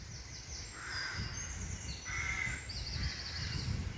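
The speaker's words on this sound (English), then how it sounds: "Can you hear that? They're having a big conversation. Looks like it's from a crow." Several crows caw back and forth outdoors, harsh calls in quick runs repeating from moderate distance over a soft background rush.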